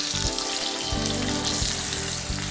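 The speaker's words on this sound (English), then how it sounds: "at the moment, I'm just cooking it in the pan" Chicken roulade sizzles steadily in a pan, a dense crackling fry with a constant low hum underneath and no voices.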